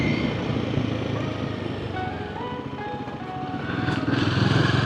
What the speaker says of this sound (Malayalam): ഒരു വിസിലിംഗ് സൗണ്ട് ഉണ്ട് വണ്ടിക്ക്.